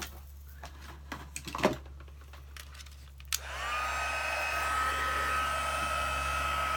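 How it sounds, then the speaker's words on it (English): A heat gun for heat embossing switches on after a few handling knocks and clicks, then blows with a steady, close airy whine. "take your heat gun and warm it up for about 30 seconds"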